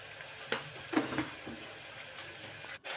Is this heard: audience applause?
no